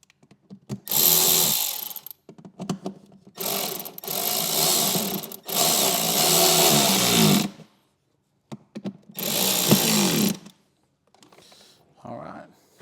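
A powered screwdriver drives fine-thread machine screws into the lid of a 2014-2021 Harley CVO Street Glide in several loud whirring bursts of a few seconds each, separated by quiet pauses.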